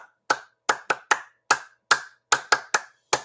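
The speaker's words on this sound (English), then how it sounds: "So we want to clap hands for Orogo Todi." Hands clap sharply about a dozen times at an uneven pace, close and crisp with silence between claps, sounding like a single person or a few people rather than a full crowd.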